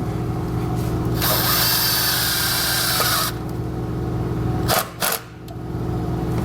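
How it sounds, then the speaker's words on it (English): Power drill driving a self-tapping screw into the metal body of a 2018 Jeep Grand Cherokee, a steady loud whirring run lasting about two seconds, followed by a couple of short clicks and bumps. "we're gonna use the self-tapping screw to get it secured"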